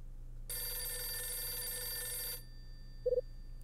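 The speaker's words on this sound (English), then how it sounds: "Now the phone's ringing." A telephone rings in the video game Last Window, a single sustained bright electronic ring lasting about two seconds, followed by a brief soft triple beep, in an otherwise quiet room.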